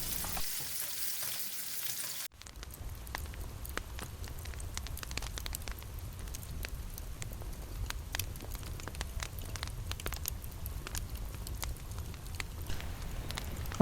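Chicken pieces frying in hot oil and butter in a pan, a steady loud sizzle with crackling pops that surges in after a brief quieter start and continues without talk.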